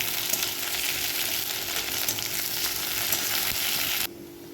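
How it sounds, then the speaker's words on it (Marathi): Tomato frying in a pan for a Marathi-style methi dal, a close, steady sizzle and crackle that runs evenly for about four seconds before dropping away to quiet room tone. "याच्यात आपण हा टॅमॅटो घालणार आहे टॅमॅटोला पण थोडंसं भाजून द्या"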